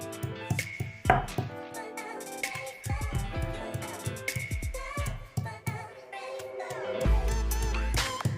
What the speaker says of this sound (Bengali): পেঁয়াজ ছেঁচা চলছে, রান্নার প্রস্তুতি।